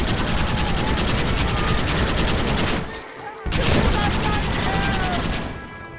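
Sustained, dense gunfire from Red Dead Redemption during the assault on Fort Mercer rattles almost nonstop, loud and close, with a brief lull before the shooting resumes.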